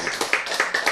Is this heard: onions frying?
no